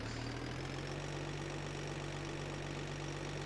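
A steady, moderately loud engine drones evenly in second gear, an RV in the Roblox game RV Cooked, with a constant low hum and no breaks.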